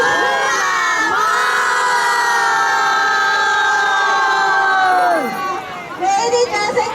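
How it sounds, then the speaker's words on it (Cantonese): A large crowd of adults and children at the start of a 1 km family fun run in Hong Kong chants a name together in one loud, sustained shout, followed by scattered cheering. "我哋一齊大聲講酷媽媽"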